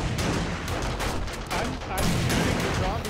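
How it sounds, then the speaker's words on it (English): Rapid gunfire while shooting zombies in the game 7 Days to Die: a dense, continuous fusillade of loud shots filling the whole moment, with game noise and little sign of voices. "I'm shooting the zombies"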